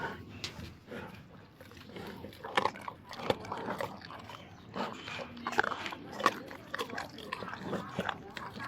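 A tiger chews and tears at a chicken, with wet crunching, biting and slurping at close range in an irregular rhythm, while voices chatter faintly in the background.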